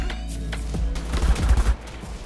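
Rapid bursts of shotgun fire in the video game ARK, a cluster of loud, close blasts packed together in the middle, with quieter shots before and after.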